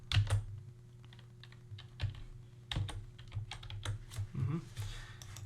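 Keystrokes clatter on a computer keyboard in irregular bursts, close and fairly quiet, with short pauses between runs of taps and a steady low hum underneath.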